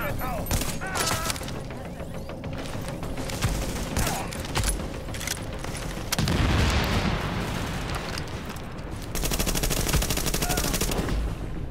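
Repeated bursts of automatic gunfire and heavier blasts ring out in a Tom Clancy's The Division firefight, close and loud, with short pauses between volleys and talk mixed in.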